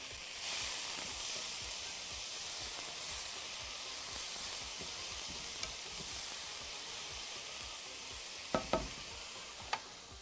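Onions and garlic sautéing in a pan for a Middle Eastern eggplant and minced meat bake, giving a steady, even sizzle throughout with a few light clinks of a utensil near the end.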